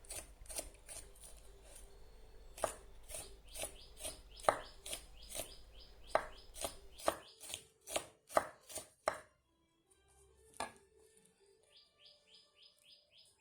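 A knife slices winged beans thinly on a board in sharp, evenly spaced chops that speed up toward the middle and then stop, with birds chirping in the background and no talk.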